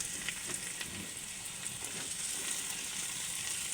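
Chepa dried fish frying in a pan with salt, giving a steady close sizzle with soft scraping from stirring throughout, and no voices.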